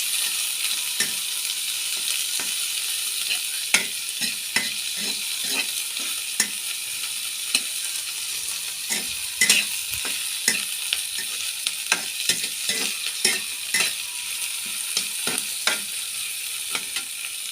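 Squid adobo sizzles and fries in a pan while a utensil stirs and scrapes at irregular intervals, producing close clicking taps over a steady hiss, with no talking.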